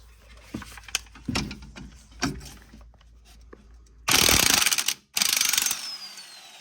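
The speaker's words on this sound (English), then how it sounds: "that 14 millimeter pinch bolt there, we got to get it loose because that is the bottom of the strut." A ratchet loosens the 14 mm strut pinch bolt on a lowered Lincoln, with scattered clicks and then two loud, close bursts of rapid ratcheting.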